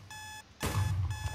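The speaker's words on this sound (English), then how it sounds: "It's with the beeping. I don't like the beeping." Repeated electronic beeping from a corrupted file in the Minecraft video game, a steady high alarm-like tone that cuts out briefly and returns with a louder low rumble of game noise beneath.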